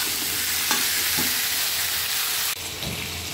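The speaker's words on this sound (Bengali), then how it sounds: "আমি 5 মিনিট মতো ভেজে নেব" Hilsa fish frying in hot oil, a dense, steady, loud sizzle heard up close throughout, with a brief stir or shift partway through and a slight drop in level near the end.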